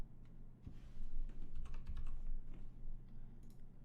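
Light typing on a computer keyboard in a quiet room, a steady patter of soft key clicks over faint background hum, with no voices.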